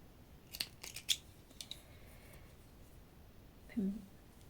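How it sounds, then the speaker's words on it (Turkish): Scissors snip yarn during crochet work on a hooded scarf, a few quick, close metallic clicks near the start followed by a brief soft rustle, with quiet speech nearby. "İpimi kesiyorum."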